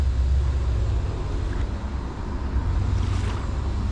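Sea water off a coast near moored boats washes and churns in a steady, close roar, with wind buffeting the microphone and no clear individual breaking waves.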